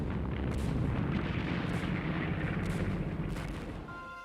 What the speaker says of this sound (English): Tanks led the way, grinding over the rubble and firing point blank into courtyards.